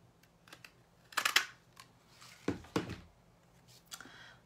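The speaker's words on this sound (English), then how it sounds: "we're going to take the stamp punch, and we're going to cut out our sentiment" A handheld stamp punch cuts a paper sentiment at a craft table, giving a few crisp clicks and snaps, with a sharp cluster near one second and another pair near two and a half seconds, close and fairly quiet.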